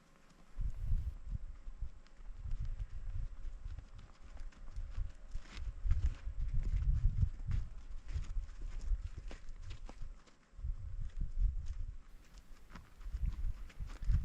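Wild horses walk near a spring, their hooves clip-clopping in a soft, uneven rhythm close by, with quiet outdoor ambience and brief pauses between steps.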